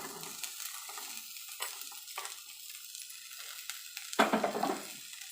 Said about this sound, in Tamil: சவ் சேர்த்து வதக்கிக்கலாம்.